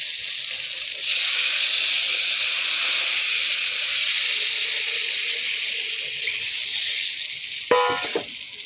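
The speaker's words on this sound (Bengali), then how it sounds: "এবার জল দেব" Water poured into a hot frying pan of spiced fish curry bursts into a loud, sustained hiss of sizzling steam that slowly fades, with a brief clatter near the end.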